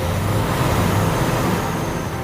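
A large truck drives into the yard of a house in the 2008 film Joy Ride 2, a steady loud broadband engine and road rumble that holds level throughout with a strong low hum and no voices.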